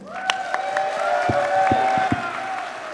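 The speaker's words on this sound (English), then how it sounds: "You guys, I want a round of applause for our panelists." An audience applauds the panelists at a comic convention, a moderate crowd of clapping with a few sharp individual claps and some cheering voices over a sustained background hum.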